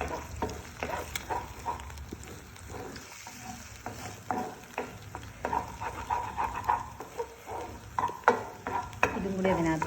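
A spoon stirs a scrambled egg mixture seasoned with salt and pepper in a hot pan, with steady sizzling and frequent scraping clinks of utensil against metal, close and continuous.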